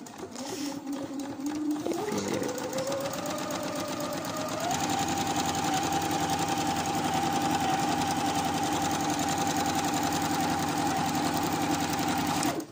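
A sewing machine stitches fabric for a cloth face mask, its motor running steadily and loudly for the whole stretch after a short start-up, with a constant whirring drone and no voices.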